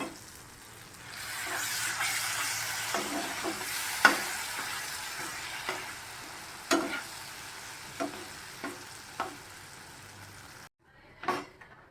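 Spice paste sautéed with blender rinse water gives a steady hiss and sizzle in the pan, broken by several sharp spatula scrapes and taps, before a brief pause and one last stir.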